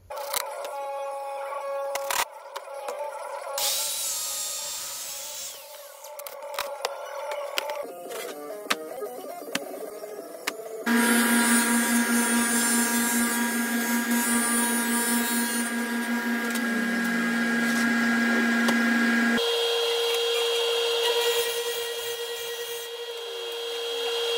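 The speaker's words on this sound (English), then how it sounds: "I can reference that side then for the table saw to cut every other straight long line that I need to." A table saw works through wood while 3D letters are being cut to width: a loud, sustained motor whine with long cutting passes, pitch shifts and pauses between cuts, heard close and alone.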